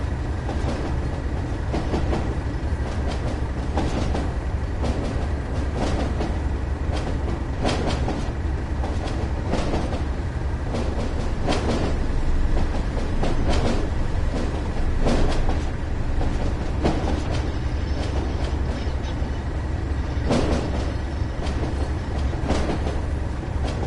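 A DMU train running in Train Sim World on a cold day, heard as a continuous rumbling rail drone with rhythmic clickety-clack over the joints, steady and close throughout.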